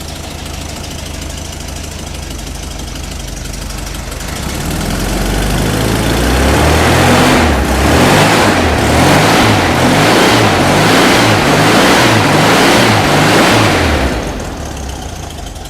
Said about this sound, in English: So I'm just going to start it and see what happens.